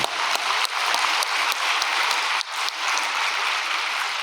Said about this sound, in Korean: 박수 한번 올려주십시오.